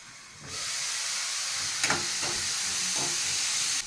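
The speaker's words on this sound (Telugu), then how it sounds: "ఉల్లిపాయలు టమాటాలు పచ్చిమిరపకాయలు కూడా బాగా వేగినాయి" Onions, tomatoes and green chillies frying in a pan for chicken curry give a steady loud hiss, and a few short bursts of louder crackle rise above it, with no voices.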